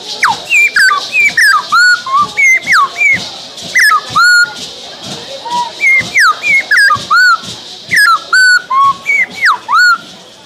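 A person whistles an imitation of a sabiá thrush, a rapid run of loud, close, sliding whistled notes in short bursts with brief pauses, no speech.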